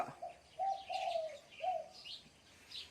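A spotted dove from a pair being matched for breeding gives a short series of soft, mellow coos, fairly near against faint background noise, with no talking.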